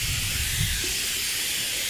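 An airless paint sprayer sprays fence stain with a continuous loud, bright hiss, steady throughout, with low rumbling underneath.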